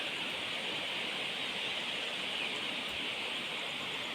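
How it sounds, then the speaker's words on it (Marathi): A river running deep and full after rain in the Konkan countryside, heard as a steady, even broadband rush of flowing water with no pauses, moderately quiet and unbroken throughout. "हे बघा नदी"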